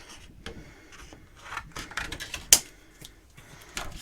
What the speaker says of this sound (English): Just be careful when you're cutting the window sheet